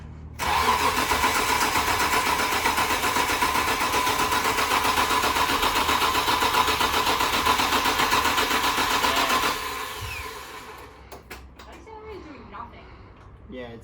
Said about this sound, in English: we went to start the car and it didn't work